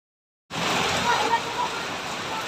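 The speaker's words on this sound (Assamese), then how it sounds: "আৰু এতিয়া বৰষুণ দি আছে আৰু মেঘো গাজিছে" Rain falls in a steady, loud hiss that starts abruptly after a short silence and continues evenly, with no distinct thunder clap.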